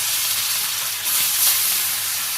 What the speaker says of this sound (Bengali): তেল গরম হয়ে গেছে শিল মাছগুলো ভাজি করে নিই